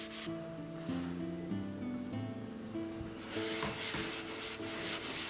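Woodworker's beeswax is rubbed by hand onto the timber of a handmade Anglo-Saxon lyre, giving a soft, continuous close-up rubbing and scuffing with faint tonal resonance from the wooden body throughout.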